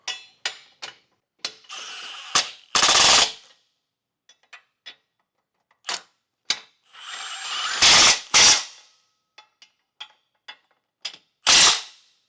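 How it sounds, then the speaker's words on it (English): A ratchet tightens the bolts of a Roadmaster Direct-Connect base plate kit with removable arms: close, sharp bursts of clicking pawl strokes come in separate runs, with quiet gaps between them. "Now we can tighten those down."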